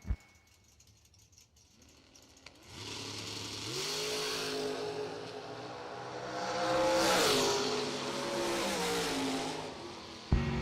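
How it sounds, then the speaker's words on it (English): Drag-racing Corvette blasting down the strip, engine revs climbing through rising gear pulls with a brief dip between shifts, building to a loud peak then fading, distant at first and nearer as it passes. "That's a fast Corvette in the right"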